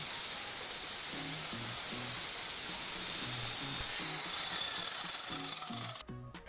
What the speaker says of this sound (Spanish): Y procedemos a cortar la melamina.